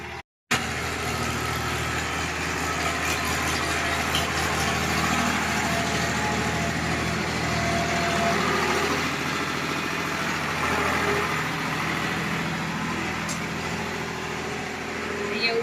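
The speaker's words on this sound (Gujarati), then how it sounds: "ટ્રેક્ટર આવ્યું છે અંદર, તો ખેડી દે એટલે સરસ થઈ જાય" A tractor engine idles steadily and close by in an uneven farm field before ploughing, a continuous low rumble that holds evenly throughout after a brief dropout at the start.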